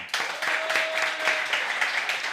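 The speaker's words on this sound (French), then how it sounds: "Mais pour une fois, voulez-vous l'applaudir?" An audience at a French televised comedy show applauds a guest named Violaine, with dense, continuous clapping from many hands that sets in suddenly and holds steady, a faint sustained tone running briefly underneath.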